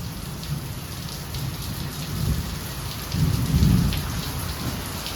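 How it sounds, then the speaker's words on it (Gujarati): Heavy rain pours steadily while low thunder rumbles roll in twice, the second deeper and longer. There are no voices, only the dense hiss of the downpour. "એવી વીજળી કડાકા,"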